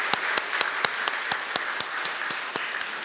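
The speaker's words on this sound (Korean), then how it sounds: "우리 함께 영광의 박수 같이 드릴까요?" A church congregation applauds during a Sunday worship service, a steady round of clapping with distinct individual claps popping out over the dense patter, moderately close and without talk.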